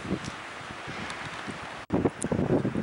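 Wind gusts across a mountain hiking trail near Hallett Peak, a steady airy rush with rustling and buffeting against the microphone, briefly cut off near the end.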